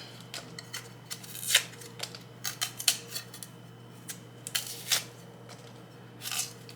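A knife cuts into cassava root with a string of small crisp snips and scrapes at an irregular pace, close and fairly quiet over a low hum.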